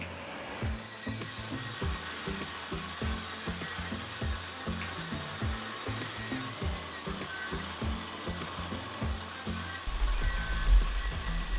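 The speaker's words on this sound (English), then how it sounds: "First I'm cutting some plywood on the table saw for the legs and the struts and also for the joining pieces." Table saw cutting plywood for legs, struts and joining pieces: a loud, steady whirring with a repeating rhythmic clatter throughout, alone without talk.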